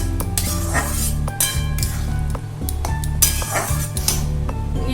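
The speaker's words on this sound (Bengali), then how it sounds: "এবার হলুদ কাশ্মীরি লঙ্কার গুঁড়ো নুন মিষ্টি দিয়ে এবার ভালো করে কষাবো যতক্ষণ না মশলা থেকে তেল বেরিয়ে আসবে" Spices with turmeric, Kashmiri chili powder, salt and sugar sautéed in a pan, a utensil clinking and scraping against the metal in repeated strokes over a low background hum, close and without talk.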